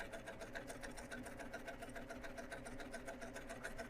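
Baby Lock Applaud sewing machine stitching off the fabric edge at a stitch length of 4: a fast, rhythmic, evenly pulsing mechanical chatter, steady and close though fairly quiet.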